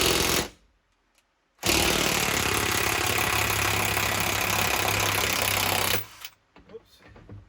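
A steady, loud broadband whoosh from an electric fan running outdoors during interior removal work on a 1966 Ford Mustang coupe, lasting about four seconds between quieter moments with faint handling sounds.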